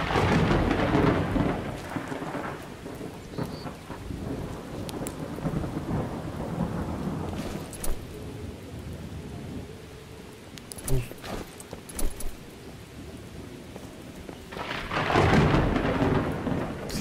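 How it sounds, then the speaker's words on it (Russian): A video game thunderstorm in Miscreated rumbles with heavy rain pattering steadily, deep thunder rolling at the start and end, with a few brief sharp knocks in between. "Звуки дождя, грома, вот это ветра, да, очень крутые"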